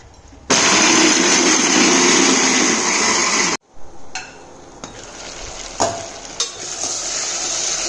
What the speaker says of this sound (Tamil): தேங்காய் போட்டு மையாக அரைச்சிக்கோங்க